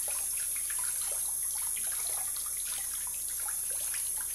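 Tap water runs steadily while a shaving brush is rinsed and its knot worked under the stream, a close, even splashing hiss with small irregular spatters throughout, no talking.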